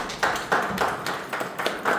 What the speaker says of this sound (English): Welcome her with a big round of applause